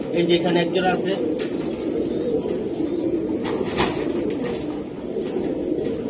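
Racing pigeons in a loft cooing softly in low murmurs beside someone speaking, with a few brief clicks and rustles.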